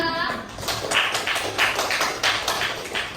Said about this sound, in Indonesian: Kasih tepuk tangan untuk Salsa.